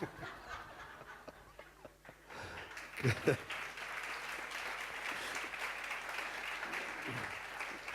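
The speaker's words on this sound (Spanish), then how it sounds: "No aplaudáis más, que nos quedamos sin respuesta." An audience at a literary talk breaks into applause, starting with scattered claps and a voice before swelling into steady, sustained clapping from a moderate distance.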